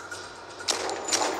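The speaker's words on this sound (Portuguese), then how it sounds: "E vou usar aqui a minha pistola." Two sharp pistol gunshot cracks in the video game Modern Combat 5, about half a second apart, standing out over a steady background hum with no talking.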